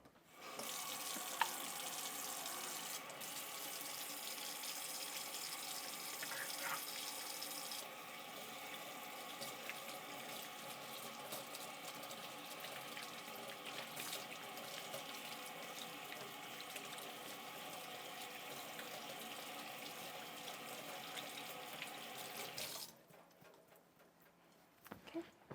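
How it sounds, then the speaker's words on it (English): Kitchen tap water runs steadily into a sink while hands are washed during home baking, a continuous close hiss lasting a long stretch before shutting off near the end, with faint clicks and handling noises. "let me stop real quick and wash my hands"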